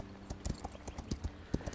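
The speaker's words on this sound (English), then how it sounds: "we're just gonna jump on our horse and take a little ride over here" Hooves clip-clop in a steady riding rhythm as a horse is ridden in the video game Equinox Homecoming, with close, evenly spaced hits that sound clear and alone.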